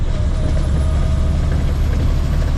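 A dump truck's diesel engine drones loud and steady as the driver splits a gear while pulling up a hill, a close, constant heavy rumble with no pauses.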